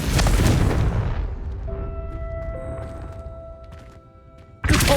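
A Confringo spell explodes in the video game Hogwarts Legacy with a heavy boom that rumbles and fades into a ringing, shimmering tail, then a sharp new burst hits at the very end.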